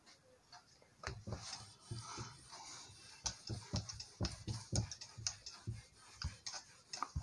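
An eraser rubs writing off a classroom board in quiet, brisk strokes, with a series of short scraping and tapping bursts that speed up over several seconds.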